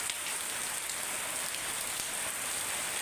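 Heavy, steady rain pours down onto surfaces outdoors, a dense continuous hiss with occasional louder drops, unbroken and alone with no voices.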